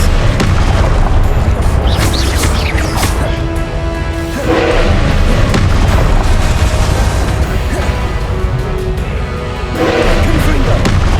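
Confringo blast spells going off in Hogwarts Legacy, a string of heavy booming explosions with crashing bursts every few seconds over a loud, constant combat din, with a voice speaking now and then.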